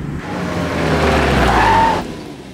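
A car brakes to a stop with a short, loud skid that swells and then cuts off after about two seconds.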